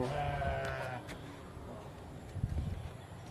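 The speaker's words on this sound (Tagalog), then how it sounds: "sana all maraming karnero, maraming tupa si Tatay Geograpia" Farm sheep bleat near a rural home in Siocon, Zamboanga del Norte, Philippines, with a clear call at the start followed by fainter animal sounds and outdoor noise.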